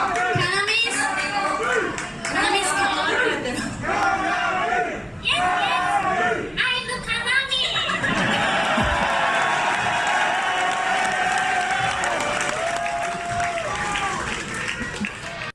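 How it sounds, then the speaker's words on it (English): A concert crowd on the 2022 US tour calls out a band member's name as a loud, sustained roar of voices. It rises after someone finishes talking and carries on strongly to the end. "the crowd was calling her name"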